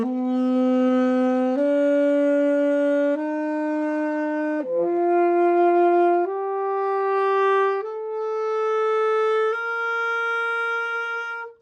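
Saxophone playing a sequence of clear, sustained notes stepping upward in pitch, bright and close with no other sounds.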